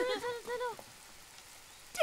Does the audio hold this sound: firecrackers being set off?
no